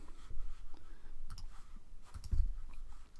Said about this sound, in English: So I'm going to click on that. Right click.